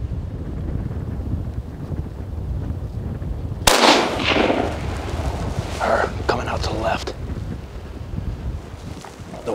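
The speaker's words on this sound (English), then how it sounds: "Waiting for this wind to die down." Gusty wind buffets the microphone outdoors at a deer hunt, a low steady rumble throughout, with a sharp loud gust or blast rising suddenly partway through and broadband bursts following; speech is tagged but no clear words are heard.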